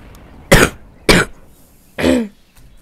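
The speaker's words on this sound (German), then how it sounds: "Ja, da muss ich gerade husten." Three separate harsh coughs from a nearby person, spaced about half a second apart, each a short, loud burst standing alone with no talk between them.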